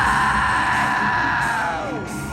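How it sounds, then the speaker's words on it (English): A concert crowd at a TooManyGames 2022 show yells and screams together in one sustained roar that holds loud and full, then eases slightly near the end. "Scream for me!"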